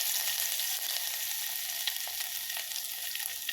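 Thinly sliced ginger fries in hot oil with fenugreek and dried red chillies, a continuous bright sizzle with scattered small crackles and no talk.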